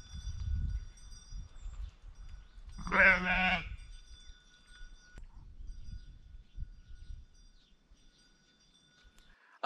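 One sheep bleats once on a farm pasture in central Portugal, a clear quavering call at moderate distance, surrounded by quiet rustling and low thumps.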